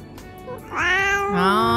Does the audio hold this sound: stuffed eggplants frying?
no